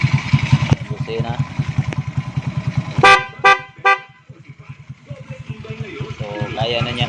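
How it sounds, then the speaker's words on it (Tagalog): Three loud, close honks from the horn of an XRM 110 motorcycle, the third longest, sounding over the steady putter of its idling engine. "Busina."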